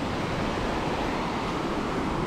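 Steady, broadband wash of surf breaking at Senggigi beach on Lombok, where a few surfers are out. The sound is continuous and fairly soft, with no clear peaks and no voices.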